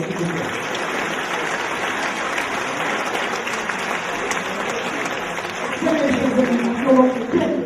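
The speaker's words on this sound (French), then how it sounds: "Merci, on peut les applaudir d'ailleurs" Audience applause at a Miss Orléanais beauty pageant, a broad, steady wash of clapping from a hall crowd, with a voice and music rising faintly beneath it near the end.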